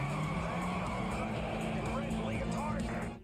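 Theme park ride soundtrack where a truck nearly hits the riders: a loud, continuous rumble of engine and road noise with a squealing, skidding sweep over steady low drone, filling the whole moment at close range.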